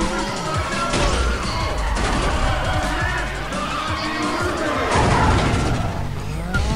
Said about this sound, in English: That was a bad crash.